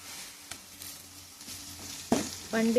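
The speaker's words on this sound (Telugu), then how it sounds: "ఇది కొంచెం పచ్చివాసన పోయేదాకా ఫ్రై చేసుకుందాం" Ginger garlic paste frying in a pan for chicken gravy curry, a faint low sizzle with a light tap, then a sudden louder hiss that swells and holds near the end, nearby and without talk.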